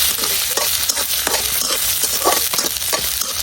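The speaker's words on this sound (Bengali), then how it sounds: "কাটিয়ে রাখা পেঁয়াজ রসুন গুলা এখন দিয়ালাম তেলের মধ্যে।" Chopped onion and garlic sizzle steadily in hot oil in a wok, a dense continuous frying hiss broken by scraping stirs, close and fairly loud with no voices.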